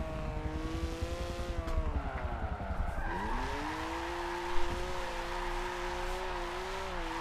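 A racing car drifts in Forza 7, tires squealing in long sustained wails over a steady engine drone, the pitch sliding and bending as the slide continues, with a small bump partway through.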